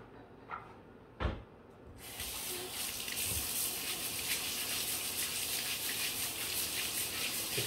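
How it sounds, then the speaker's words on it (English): Potatoes scrubbed under a running kitchen tap: a few soft knocks, then water gushes on and hisses steadily into the sink. "Just scrub the potatoes."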